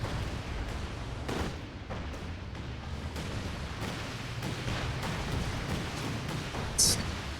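Artillery barrage in a strategy game, with a dense run of booming shell impacts and distant gunfire rumbling steadily under a commentator's voice.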